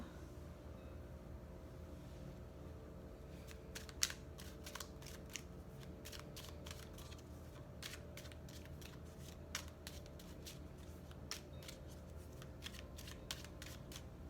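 Tarot cards being shuffled and pulled make faint, brief riffles and snaps in quick bursts over a low steady background hum.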